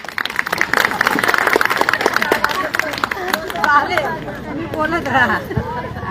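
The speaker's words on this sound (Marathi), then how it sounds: "कंटाळा आला असेल तर एकदा जोरदार टाळ्या म्हणून जाऊ द्या" A crowd at a Shiv Jayanti lecture claps and cheers loudly for a few seconds amid busy chatter, then a voice speaks over the fading applause.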